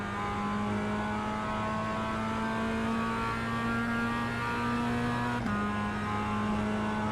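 A Mazda MX-5 race car at Winton National Raceway in the iRacing simulator gives a steady loud engine drone with a sustained pitch and a brief shift mid-way, continuous and close.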